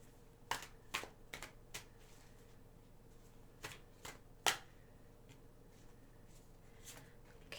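Tarot cards are shuffled in a series of quick, crisp riffling bursts, close and quiet, with short pauses between them.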